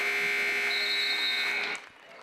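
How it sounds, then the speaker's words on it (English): The final buzzer at a college women's basketball game sounds as a single loud, sustained electronic tone lasting under two seconds, then cuts off abruptly. "as the final buzzer sounds"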